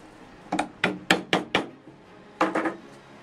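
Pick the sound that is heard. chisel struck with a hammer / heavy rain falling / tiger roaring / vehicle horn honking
chisel struck with a hammer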